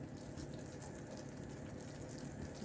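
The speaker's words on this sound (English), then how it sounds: "bubbling away nicely" Caramel bubbles in a pan for a classic French dessert, making a faint, steady, close simmering hiss and soft popping with no voices.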